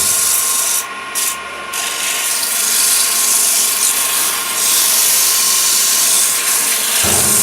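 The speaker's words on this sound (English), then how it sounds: "let's take a air hose and blow that out" Compressed-air hose blasting sawdust out of a wooden workpiece between sanding grits, a loud continuous hiss with two short dips early on, cutting off just before the end.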